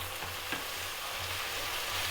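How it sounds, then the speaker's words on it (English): Vegetables stir-fry over maximum heat, sizzling and crackling steadily in a hot pan, a constant frying hiss with a faint low hum underneath. "Stir frying this around now."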